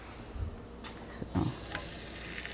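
Roti cooks in hot oil on a greased pan, producing a quiet, soft sizzle that crackles faintly and is interrupted by a few brief scraping or stirring touches.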